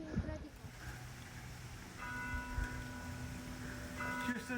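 A church bell near Lake Orta rings in steady tones that carry from some distance, faint under outdoor ambience with a little background chatter.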